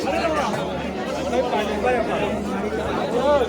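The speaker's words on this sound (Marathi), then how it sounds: "खूप गर्दी आहे इकडे." Dense crowd chatter fills the grounds of Badrinath temple: a steady babble of many overlapping voices, close and continuous, with a low hum running beneath it.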